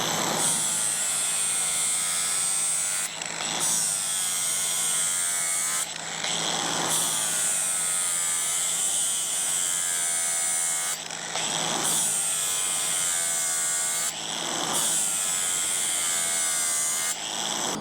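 A small battery-powered tool grinds along a lawn mower blade in long, even passes, a steady high whine close by that dips briefly between strokes several times.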